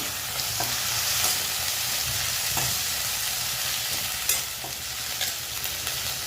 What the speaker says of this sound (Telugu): అల్లం వెల్లుల్లి పేస్ట్ పచ్చివాసన పోయే వరకు వేపాలి.